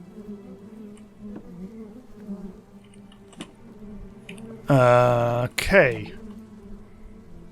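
Bees buzz in the Starbound game during bee breeding, with two short, loud electronic buzzing bursts near the end over soft background game sounds and a brief spoken word.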